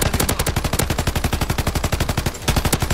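Rapid automatic gunfire in the video game Warzone 3, a loud, steady stream of evenly spaced shots with a brief gap near the end before the burst resumes.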